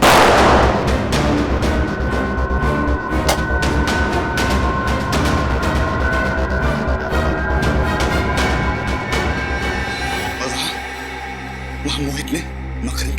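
Rapid, loud gunfire cracks in a Hindi CID crime drama scene, a long burst of sharp repeated shots packed closely together that thins out toward the end, mixed with dramatic background music.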